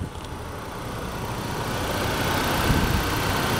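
A 2003 Nissan Altima 2.5 S sits idling with a steady, even engine hum, close by and fairly quiet, building slightly in level with no voices over it.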